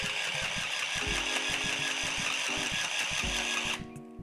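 A sewing machine stitching fabric runs with a steady, fast mechanical pulse over a constant whir, then cuts off near the end, leaving quiet room tone.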